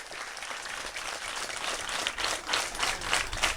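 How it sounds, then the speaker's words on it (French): An audience at a school support event claps steadily, with moderately loud applause whose individual sharp claps stand out in a rhythmic patter, and no talk over it. "que vous devez applaudir ici très fort."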